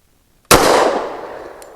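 A single sharp report from a .45 ACP compact pistol with a 3.8-inch barrel firing a 185-grain load, loud and close, with a quick ringing decay.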